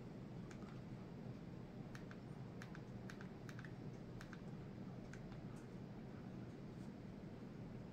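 Soft, scattered keystrokes tap out an email address during app setup, faint and irregular over a steady background hiss.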